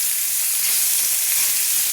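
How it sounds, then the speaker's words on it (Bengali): Chicken pieces sizzling in oil in a kadai on high flame, a continuous close hiss of frying with no voices, even and unbroken throughout. "তাই হাই ফ্লেমে দিয়ে চিকেনগুলো ভেজে নিতে হবে"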